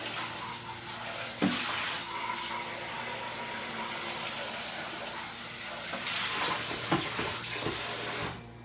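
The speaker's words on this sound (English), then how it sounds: "Okay, hold on, I'm just rinsing." Tap water runs steadily as a spatula is rinsed in a kitchen sink, with a constant close hiss and a few brief clatters, ending abruptly.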